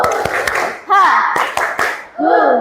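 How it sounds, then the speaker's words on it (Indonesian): Children in an elementary school classroom perform a rhythmic spirit clap, short patterned bursts of hand claps mixed with a teacher's and children's chanting voices, loud and close. "Kita tepuk semangat dulu, tepuk semangat."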